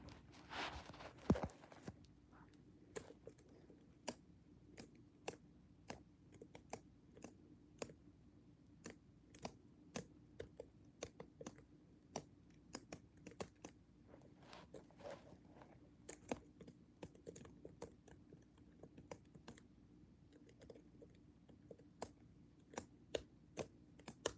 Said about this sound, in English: Little keyboard ASMR.